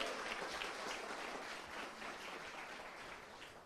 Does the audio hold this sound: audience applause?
yes